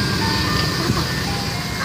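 An ice cream truck plays its chiming jingle outdoors, steady and fairly loud against broadband street and engine noise, with no talking.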